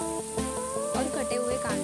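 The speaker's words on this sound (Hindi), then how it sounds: "उसमें बटर और साथ ही थोड़ी सी तेल डालकर जीरा डालिए" Cumin seeds sizzling in butter and a little oil in a kadai, a steady close crackle with bright hiss and faint tonal background, continuous and fairly loud.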